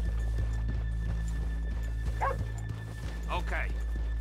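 Horses in the video game Red Dead Redemption 2 snort and whinny over steady hoof clops and a low background hum, with brief voices mixed in, in the town of Valentine.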